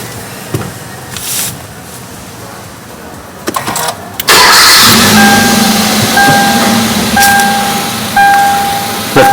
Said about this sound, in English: Now let me start my engine